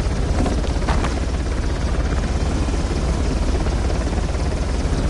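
A helicopter in the video game Uncharted drones steadily and loudly throughout, a continuous rotor roar with no break.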